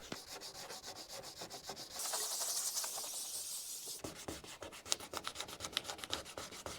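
Hand sanding with 400 grit sandpaper in fast back-and-forth strokes, a close, soft, hissy rasp with a steadier stretch of continuous rubbing in the middle, done on a Toyota Altezza while fitting ITB filters, with no talking.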